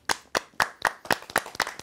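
Rhythmic, close hand clapping from people at a dating show: about seven sharp, evenly spaced claps in under two seconds, with no talk.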